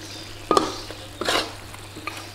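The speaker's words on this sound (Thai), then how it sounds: "ผัดให้ตะไคร้เริ่มสุกครับ ครับผัดให้พอนิ่มๆครับ" Pork ribs stir-fried with lemongrass in a pan: a low sizzle with a few short scraping stirs and a clink of the utensil against the pan, close and fairly quiet.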